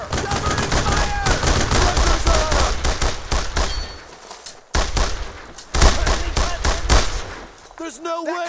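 Dense gunfire rings out in the World War II shooter Brothers in Arms: Road to Hill 30, with loud, rapid bursts of rifle and machine-gun fire and a short lull midway, while soldiers shout over the battle.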